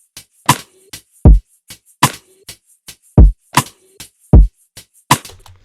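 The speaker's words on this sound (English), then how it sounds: "And that's the drums. They sound like this." Drum loop from a battle beat with Haas-effect delay widening it: sharp, punchy hits alternating with deep booming kicks in a steady pattern, crisp and loud, with no voices.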